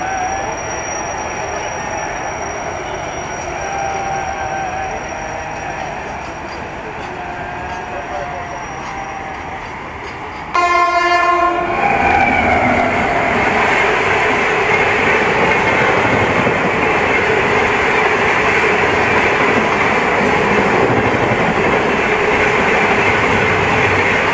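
A train rolls past on the rails along the Shalimar–Puri line, a steady rumble that jumps sharply louder about halfway through and then holds as a loud, continuous rattling roar.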